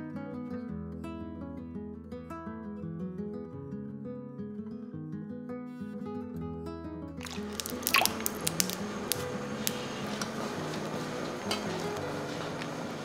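Boiled taro being scooped out into cold water for a taro dessert, a series of wet splashing and dripping sounds close by in the second half, following a stretch of background music.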